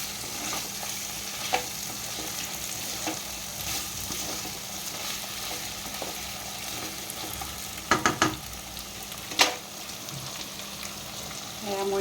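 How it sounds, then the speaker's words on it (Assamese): Mutton and potatoes frying in a pot hiss and sizzle steadily with faint stirring scrapes, then a few louder splashy bursts as hot water goes in. "মই ইয়াতে গৰম পানী কৰি থৈছিলোঁ, উতলা গৰম পানী ইয়াতে দি দিছোঁ।"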